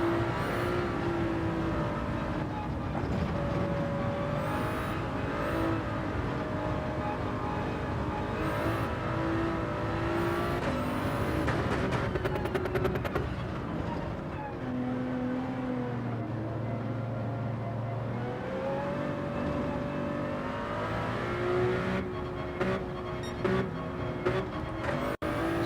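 Race car engines in the Gran Turismo 7 video game rev, accelerate and drop through gear shifts in a long continuous run, with steady mechanical whine and brief pitch swings as cars pass, and no talking.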